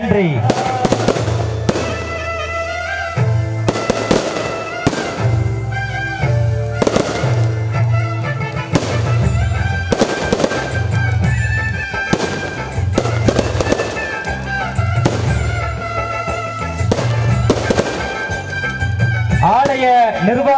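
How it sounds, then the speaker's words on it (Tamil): Firecrackers burst repeatedly at a Kaliamman temple's annual festival, a dense run of loud, sharp cracks and booms in quick irregular volleys, with a voice speaking over the barrage. "ஏன்னா ஒரு பாதுகாப்பான முறையில வெடி வெடிக்கணும்."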